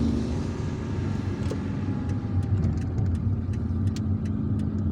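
A car drives through the streets of Algiers, passing beneath an apartment building, with a steady low engine rumble and road noise running throughout and a few faint high clicks near the end.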